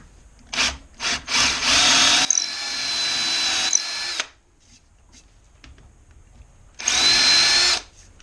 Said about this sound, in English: Need to drill a hole so I can put the drive screw in there.